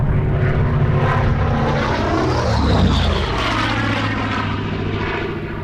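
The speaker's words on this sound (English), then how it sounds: "The third aircraft in the naval formation was the Hawker Sea Fury." A Hawker Sea Fury, a post-World War II single-engine naval fighter, roars past at the Flying Legends 2006 airshow, its loud propeller engine droning steadily with a sweeping pitch shift as it passes.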